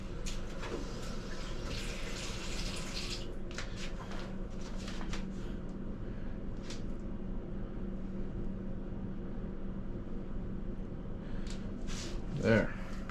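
Water being poured into a bowl of wax-coated sand, a steady broadband rush and trickle lasting several seconds, close and moderately loud.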